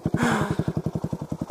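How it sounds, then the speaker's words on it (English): Small engine of a vehicle called Athena putting along like a moped, close and steady with a fast regular pulsing beat after a brief rev at the start. "Gosh, she sounds like a moped right now."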